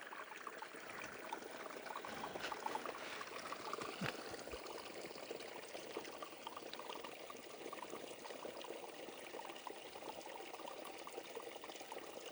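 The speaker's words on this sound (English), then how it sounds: "Just a little babbling brook." Babbling brook along a nature preserve trail, a steady soft trickling and gurgling of water that runs continuously at low volume with no voices.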